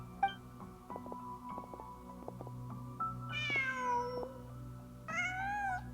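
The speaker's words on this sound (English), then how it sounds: "Just a cat." A cat meowing in the Genshin Impact video game, two drawn-out meows heard fairly close over a soft game music backdrop with plucked notes.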